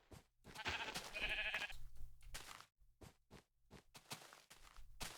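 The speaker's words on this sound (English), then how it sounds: "hello, sheep." Minecraft sheep bleat repeatedly in a game, several wavering bleats close up mixed with soft footsteps and scraping.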